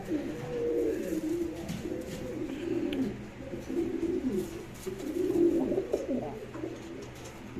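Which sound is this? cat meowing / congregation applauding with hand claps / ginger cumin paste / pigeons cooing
pigeons cooing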